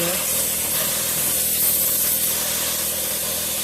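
Gasoline sprays onto the cylinder head of a T-40 tractor's D-37 engine in a continuous loud, close hiss that holds steady throughout.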